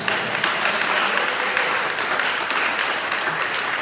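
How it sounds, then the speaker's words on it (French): A church congregation claps steadily at a Sunday service, a dense, continuous wash of applause filling the room at full volume from start to finish. "Applaudissez le Seigneur, applaudissez."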